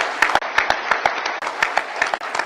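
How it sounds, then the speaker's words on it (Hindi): Audience applause at a NABARD Foundation Day celebration, a short, loud burst of many hands clapping indoors, dense and steady with a few sharp individual claps standing out. "हम सब ताली बजाएं उनके लिए।"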